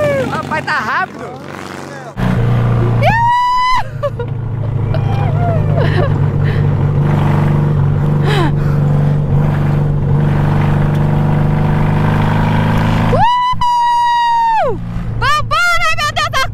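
Volkswagen Beetle (Fusca) cars racing, a continuous loud engine drone with revving surges and whining passes, under excited talk and crowd babble.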